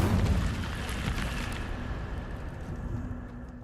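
An Incendio fire spell cast in Hogwarts Legacy, a loud whooshing burst of flame at the start that settles into a rumbling roar and slowly fades.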